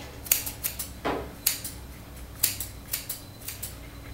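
Grooming scissors trimming the fur on a Pomeranian's paw, a series of crisp, close metallic snips at an uneven pace in a quiet room.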